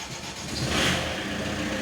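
An Opel Frontera diesel engine cranks and catches, a loud close churning rumble that swells briefly and settles into a rough running note, with no voices.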